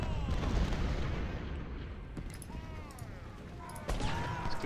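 Civil War artillery cannon fire in a battle scene from Ultimate General: Civil War, a dense, rumbling barrage of booms and gunfire filling the whole stretch, with a heavier blast near the end.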